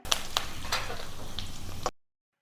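Ten to twelve sliced shallots and curry leaves fry in oil over a medium flame, giving a steady, soft sizzle with a few sharp crackles and spatula clicks, no voices.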